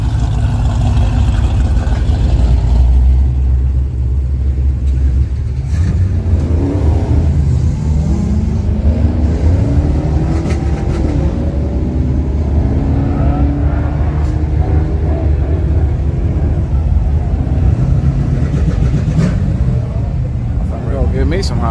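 A Hellcat and a Corvette street racing: loud, rumbling V8 engines roar and rev, the pitch climbing through repeated acceleration sweeps, with faint voices underneath.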